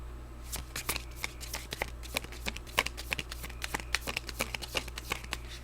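Rapid, crisp riffling of tarot cards being shuffled, a dense run of sharp slaps and flutters repeating close up with no talking.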